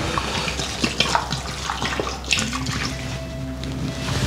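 A whole bottle of Koskenkorva vodka glugs steadily into a mixed drink, a continuous splashing pour with a few brighter splashes, close and fairly loud, with no voices.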